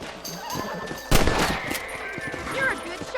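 Rifle fire while hunting rabbits in Red Dead Redemption: one loud, sharp shot cracks in the middle, followed by a quick second report, over faint outdoor ambience with some talk.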